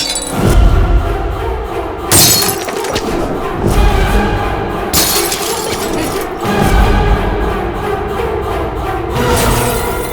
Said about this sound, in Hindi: कांच की बोतलों का यही तो प्रॉब्लम है, टूट जाती हैं।